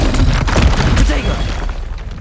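Spell impacts from the video game Hogwarts Legacy: rolling booms, thuds and crackling bursts follow one another densely, loud and close throughout, with no voices.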